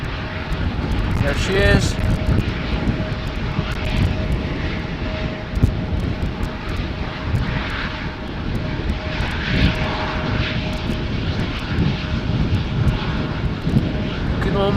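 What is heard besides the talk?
Embraer aircraft taxiing onto the runway at Schiphol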